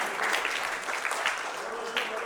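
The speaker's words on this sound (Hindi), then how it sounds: "मैं चाहूँगा जोरदार तालियां हो जाए" Audience at a film poster launch and cast introduction claps steadily, a fairly distant, even applause with a voice faintly underneath.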